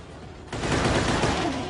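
Gunfire from the Dead Trigger game playing on a Nexus 7 tablet: a quiet lead-in, then a sudden dense burst of rapid shots that carries on to the end.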